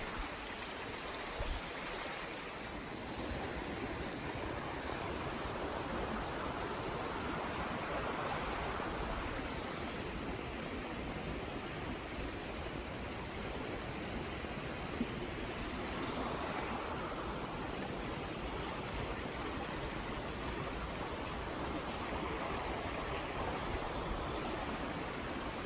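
A stream flows steadily with a continuous rushing, burbling wash of water throughout, no voices and no breaks.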